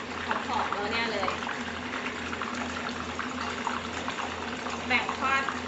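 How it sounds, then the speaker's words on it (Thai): Chicken wings deep-fry in hot oil with no batter, giving a steady bubbling sizzle over a low hum while someone talks over it. "แบ่งทอดทีละหน่อยเนาะมันแน่นไป"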